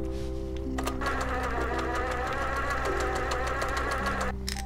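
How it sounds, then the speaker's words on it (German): A sewing machine in a video game rattles continuously at a fast, steady mechanical rhythm while opening a can of cat food, with faint background tones and no speech. "Machen wir das Katzenfutter mit der Nähmaschine auf, oder?"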